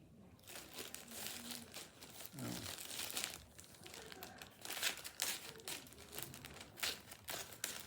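A mail package being cut and opened, with dense, continuous crinkling and rustling of paper and packaging close by, irregular bursts of crackle throughout, and faint background voices.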